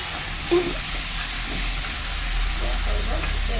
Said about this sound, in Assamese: এতিয়া অকণমান লাৰি দি ঢাকন মাৰি থৈ দিম পিছে আলু বাগৰিয়ে গ'ল